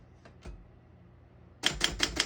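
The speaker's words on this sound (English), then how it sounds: "As you can see, all the keys type nice and none of them skip or stick." A 1956 SM1 vintage desktop typewriter: two soft taps, a pause, then a quick burst of four or five crisp, loud key strikes close up.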